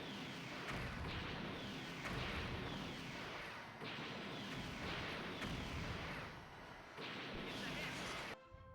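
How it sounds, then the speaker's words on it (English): The Death Star blowing up in the Star Wars Trilogy Arcade video game: a rapid series of loud, booming blasts and crashes, each burst roughly a second and a half apart, continuous and heavy throughout. "That is not the canon way of blowing up the Death Star"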